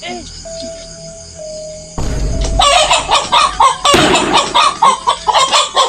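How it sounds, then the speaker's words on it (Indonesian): Chickens cluck in a rapid, repeated series of loud, close calls after a quieter start with a steady tone, a voice briefly mixed in. "aya ayam"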